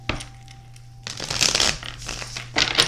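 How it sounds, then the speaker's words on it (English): Tarot cards are shuffled close by in short crisp riffling and slapping bursts, quiet but clear over a low steady hum. "Cards definitely don't want to shuffle for me"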